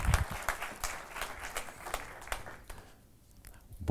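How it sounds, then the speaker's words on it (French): Audience applause for the newly elected president at a builders' federation general assembly, a few seconds of scattered, moderately loud clapping that thins out toward the end. "Monsieur Frédéric Demongeot, on peut l'applaudir."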